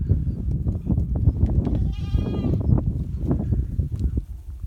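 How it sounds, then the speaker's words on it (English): A goat kid bleats with a quavering, wavering cry amid a dense jumble of other animal noises and shuffling, close and busy throughout. "And a whole pile of kid goats right there."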